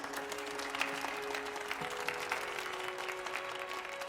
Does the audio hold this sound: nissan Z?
no